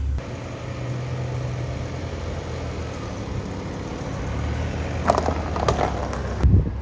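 BMW M6 with its V10 engine, freshly serviced with a new Vanos pump and rod bearings, rumbles steadily in a low engine drone while driving, with a few sharper knocks and rattles near the end.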